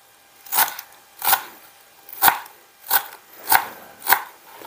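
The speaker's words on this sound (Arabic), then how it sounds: "وعندي نص باقة معدنوس هم نقطعه بهاي الطريقة" Six sharp knife strikes chop parsley and dill on a board, evenly spaced about two-thirds of a second apart, close and crisp with no talk.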